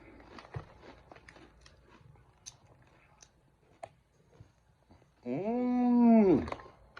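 Faint crunching and chewing of crunchy Zapp's pretzels in short close bites, followed by a long, loud hummed sound of enjoyment near the end.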